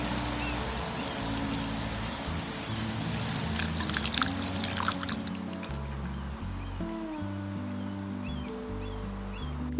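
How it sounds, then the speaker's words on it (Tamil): Dissolved tamarind water pours into a Kerala-style fish curry, a steady liquid stream with a brighter splashing burst midway over faint background music, no talk. "அடுத்தது நம்ம இதில் புளி ஊற வச்சுருந்தோம் இல்லையா, அதை கரைச்சி இதில் ஊற்றிக்கலாம்."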